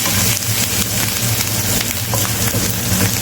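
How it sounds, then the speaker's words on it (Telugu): Curry leaves fry in hot oil over a low flame, a loud, close, unbroken crackling sizzle that holds steady throughout, with no voices over it. "ఇందులోనే కాస్త కరివేపాకు కూడా వేసుకొని వేయించుకుంటున్నాము."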